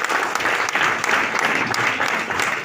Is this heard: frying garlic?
no